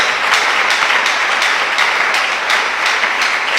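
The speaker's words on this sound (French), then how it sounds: "Encouragez-moi par vos acclamations quand même." A church congregation at a pastor's sermon breaks into sustained applause and cheering acclamations, a dense steady roar with recurring swells of clapping throughout, no single voice standing out.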